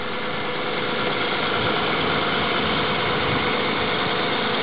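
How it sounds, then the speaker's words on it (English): A car engine fitted with an alternative fuel kit idles at about 1100 RPM while still warming up, a steady, close, continuous hum with a faint knocking texture and no talk. "You'll hear a current draw on the engine."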